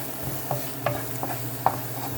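Onions and peppers seasoned with salt sweating in a pan for shrimp and grits, a steady soft sizzle with a few light stirring scrapes against the pan, close and without talk.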